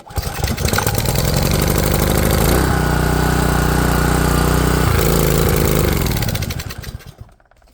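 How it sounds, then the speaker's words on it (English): A small gas-powered equipment engine with a freshly cleaned carburetor runs loud and close with a steady buzzing drone, its pitch shifting slightly a couple of times before it winds down and stops near the end. "But it does start up because we just fixed the carburetor for free."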